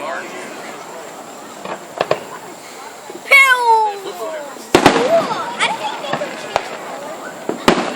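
Fireworks pop and crack outdoors, scattered sharp bursts with one whistling, rising-and-falling streak, while people exclaim and talk over them.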